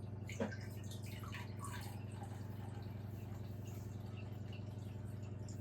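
Water is poured lightly over goat blood at the side of a pan while cooking, a soft continuous trickle and splash with faint drips and rattles, heard close and quiet without talk.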